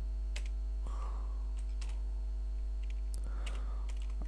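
Delphi code is typed on a computer keyboard in a quiet room, with scattered close key clicks in short bursts over a low steady hum.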